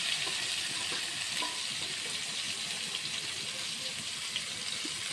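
Small chopped tomatoes hitting a hot frying pan while cooking a green bean (borboti) vegetarian dish, giving a steady, close, continuous sizzle and crackle throughout with faint stirring clinks and no talk.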